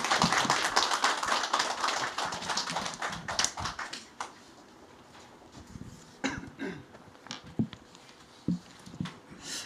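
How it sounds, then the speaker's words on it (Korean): A church congregation at an eighth-anniversary service claps to welcome a pastor to the pulpit: a dense burst of applause for about four seconds that thins into scattered claps, taps and coughs. "우리 건동 목사님 나오실 때 우리 한번 박수로 좀 맞아주시면 감사하겠습니다."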